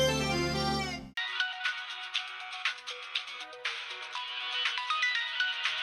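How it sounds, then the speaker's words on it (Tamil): An incoming call on a new mobile phone rings out as a bright, repeating melodic ringtone that keeps going steadily and fairly loud after a brief tonal lead-in, with no one talking over it. "யாரோ திரும்பவும் ஃபோன் பண்றாங்களே"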